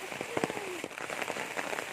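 Rain patters steadily on a surface outdoors during planting in a field, with a dense scatter of drops and a few sharper taps, loud and close.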